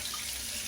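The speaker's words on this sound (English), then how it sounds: "I'm going to add some warm water from the tap water." Warm water running steadily from a kitchen tap while making empanada dough, a close, continuous splashing rush without pause or voices.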